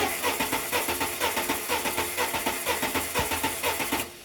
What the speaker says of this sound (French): Tu peux lancer le démarreur ?